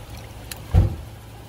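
A car door slams shut once outside a small apartment in Hawaii, a single dull thud heard at a distance over quiet background hum.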